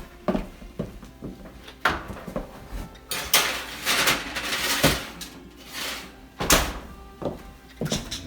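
Browned meat for gumbo is dropped into a pot with close, irregular clunks, thuds and metal scrapes of a spoon against the pot over roughly eight seconds, with no talk.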